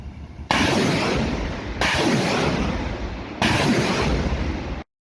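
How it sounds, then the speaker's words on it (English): Artillery fire pounding enemy troop concentrations: three loud, sustained roaring bursts in close succession, each a broad wash of rumbling blast noise, with no voices. "This is how artillery works on concentrations of enemy troops."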